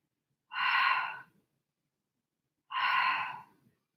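Two loud, forceful breaths during a Pilates exercise, each about a second long with a clear gap between them, close and alone with no talking.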